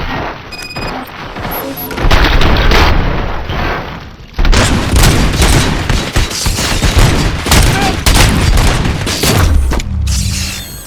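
Heavy, continuous gunfire and booming impacts fill a firefight in Robocop: Rogue City, loud and dense over several seconds with short lulls and a voice briefly heard.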